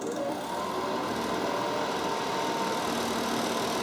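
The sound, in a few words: portable air conditioner compressor and fan running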